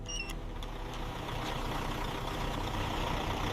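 An anaconda-meat delivery truck pulls into a plant's intake bay for unloading, its steady engine rumble filling the clip loud and close with a brief high squeal near the start.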